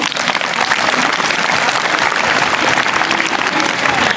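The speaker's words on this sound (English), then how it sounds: "Please have a huge round of clap again." Dense, steady applause from a school audience at a debate competition fills the whole stretch, loud and close, with no pauses.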